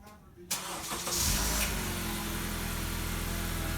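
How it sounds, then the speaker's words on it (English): A 2017 Honda Accord engine cranks briefly on remote start and catches, then settles into a steady idle close by with no talking. "And the engine cranks."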